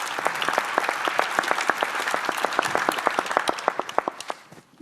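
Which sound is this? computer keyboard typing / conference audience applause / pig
conference audience applause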